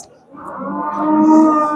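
A bull or ox at a livestock market in Shahrisabz, Uzbekistan, lets out one long, low moo that swells and holds to the end, loud and close with no talk over it.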